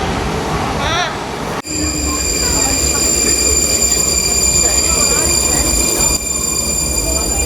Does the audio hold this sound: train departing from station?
yes